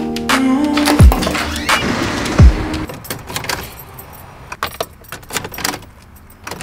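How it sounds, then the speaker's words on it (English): A car with a dead battery fails to start: keys jangle loudly, then two short, sagging attempts to turn over die away quickly, followed by scattered clicks and rattles. "My car this morning is still not starting."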